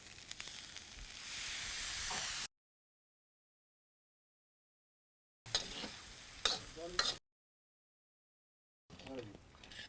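Poha being stirred in a pan after lemon juice goes in, with a steady scraping sizzle in short separate stretches broken by silent gaps.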